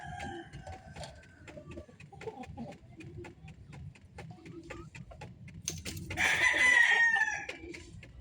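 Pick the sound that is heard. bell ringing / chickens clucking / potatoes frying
chickens clucking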